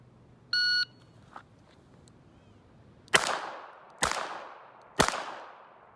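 Three sharp revolver shots from a Colt Cobra or Smith and Wesson Model 30, fired at about one-second intervals at an outdoor range from 15 yards, each a loud crack with a short decaying tail, preceded by a brief electronic beep.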